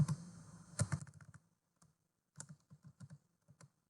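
Keys clatter on a computer keyboard as text is entered into an Excel sheet: a quick burst of clicks, a pause, then a sparse run of separate, crisp keystrokes close by.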